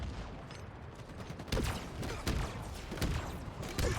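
An explosive-round weapon fires in a Halo match, several sharp bursts spaced about a second apart with crackling blasts, close and loud over game background, with no talk.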